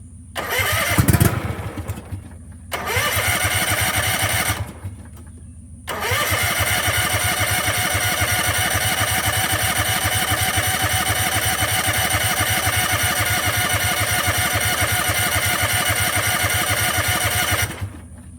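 A small Exmark mower engine cranks in several bursts with pauses between, then catches and runs steadily near the microphone for over ten seconds before cutting off.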